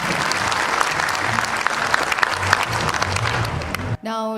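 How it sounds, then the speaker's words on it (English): A summit inauguration ceremony audience claps in a dense, steady round of applause that cuts off abruptly, followed briefly by a voice. "Can we have a big round of applause, please?"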